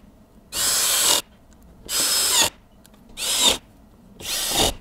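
Four bursts of a power tool whirring and rattling as it tightens 10mm bolts on a Kia Sportage 1.6 turbo, each lasting under a second with short pauses between, loud and close with no talking.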